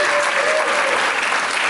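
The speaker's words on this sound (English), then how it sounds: "Clap your hands, parents?" Parents in a comedy theater audience clap their hands, a steady dense wash of applause filling the room without pause, with no talking over it.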